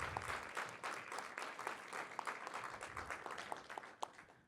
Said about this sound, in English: Let's give one more round of applause to Lyra and all the work that they have done to really steward these collaboratives.